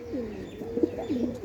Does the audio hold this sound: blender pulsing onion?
no